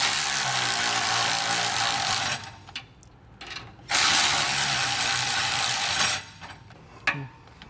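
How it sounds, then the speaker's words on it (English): A ratchet with a 9/16 socket tightens carriage bolts on a sliding fifth-wheel hitch, giving close, loud bursts of rapid clicking separated by short pauses. "you're going to want to tighten these down with a 9/16 socket"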